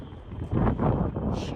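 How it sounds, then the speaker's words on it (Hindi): Wind blowing outdoors on a hot day, with flags flapping and trees swaying; a soft, steady rush of air with gusty swells, faint and without voices. "ये देखो गाइस हवा चल रही है, देखो झंडे चल रहे हैं"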